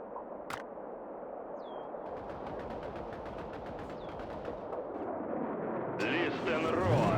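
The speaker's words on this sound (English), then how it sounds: "Listen roar of the Soviet guns" Soviet guns firing in a real-time strategy battle game: a distant, continuous barrage of gunfire and booms under a dense, noisy battle din that swells louder toward the end, with a few sharp whooshes.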